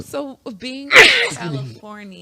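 A single sharp, close sneeze bursts out between stretches of conversational speech, with people talking just before and after it.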